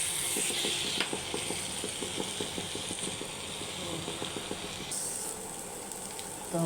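Oil and two chillies sizzle in a kadai, a steady, close frying hiss with a rhythmic clicking of stirring running through it.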